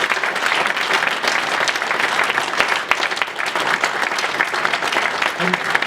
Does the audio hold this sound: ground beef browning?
no